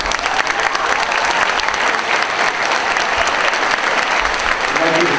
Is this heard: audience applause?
yes